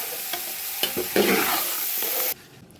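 Chicken pulao being stirred in a pot, a steady loud scraping and sizzling churn with a few clunks of the spoon, cutting off abruptly near the end to a quieter hiss.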